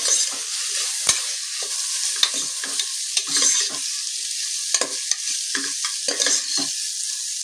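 Peas and mixed vegetables are stirred in a pulao pot, with repeated close scraping and clinking of a spoon against the metal in an irregular rhythm over a soft, steady frying hiss; no one speaks.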